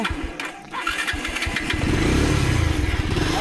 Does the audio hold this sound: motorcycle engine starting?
yes